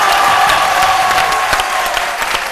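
An audience at a live midday TV show in French claps steadily in dense, sustained applause, with faint crowd noise and no talk throughout.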